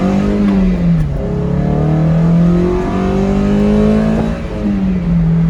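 A Toyota MR2 Spyder's 1ZZ engine pulls hard at full throttle in first gear, the rising engine note climbing steadily and loudly from inside the car, with a brief dip near the end.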